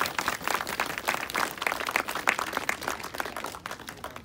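Audience applause at a home dedication ceremony, steady clapping from a gathered crowd with no break, moderately loud throughout.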